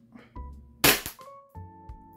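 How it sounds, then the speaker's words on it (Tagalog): Sharp airsoft pistol shot from an E&C Glock 34 Taran Tactical fired during a chronograph test, a single loud crack near the middle, with steady electronic beeping tones before and after it. "Ito naman yung kokrono test natin, yung ENC 1202 o yung Glock 34 ng ENC na Taran Tactical."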